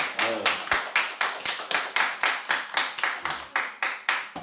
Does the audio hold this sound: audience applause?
yes